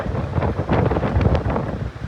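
Steady rumbling wind buffeting the microphone outdoors at a car lot in Germany before rain, a loud continuous roar with gusty surges throughout.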